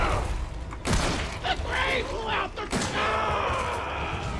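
Gunfire in the horror video game Resident Evil 7: several loud, booming shots at irregular intervals, mixed with game noise and someone talking over them.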